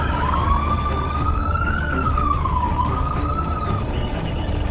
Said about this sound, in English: The siren was loud.